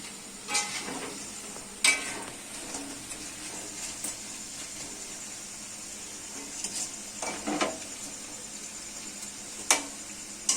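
Indian pennywort leaf fritters fry in hot oil with a steady soft sizzle, broken by occasional clinks and scrapes of a utensil against the pan.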